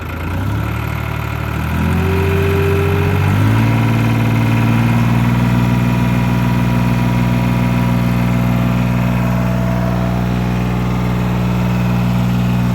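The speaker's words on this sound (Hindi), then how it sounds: "ये भाई आपको दिखाएंगे ट्रैक्टर की जो आवाज़ है उसको देखिए आप।" A Sonalika 9000 tractor engine idles loudly nearby with a steady, low, rumbling throb that holds unchanged after a brief shift in pitch early on.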